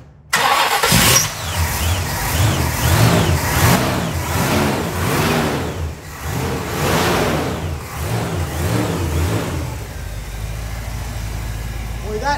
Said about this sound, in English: They took a stock 455 and went ahead and upgraded some nice stuff in there. And this thing will really set you back in your seat. Cold start, no pump.